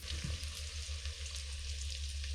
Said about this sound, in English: we're just going to keep stirring that until our onions have gone soft and sort of yellowy